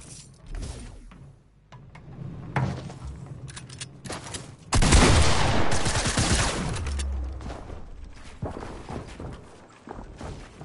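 Bursts of AK rifle fire in a shooter video game, with scattered shots and thuds early on and then a loud, dense sustained volley midway that tapers off, with no voices.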